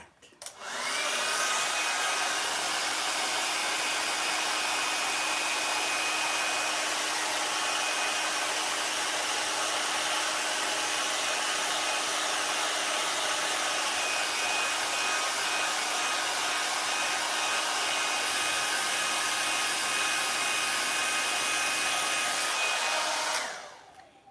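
A hair dryer runs steadily and loudly for about twenty-three seconds, drying a painted balloon shaped like a donut, its whir starting and stopping abruptly with no talk over it.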